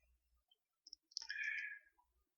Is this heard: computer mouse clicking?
yes